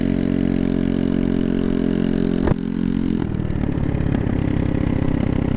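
A Honda Ruckus scooter with a GY6 engine runs loud and close, idling steadily; after a sharp click the engine note shifts and rises as the scooter pulls away. No voices are heard.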